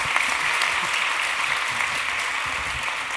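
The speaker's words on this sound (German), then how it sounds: "Und das Murmeln und der Applaus gibt Ihnen recht." Audience at a public discussion event on waste and traffic breaks into steady, fairly loud applause, dense clapping with murmuring voices underneath throughout.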